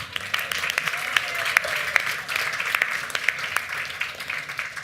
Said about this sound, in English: Big round of applause to Jonathan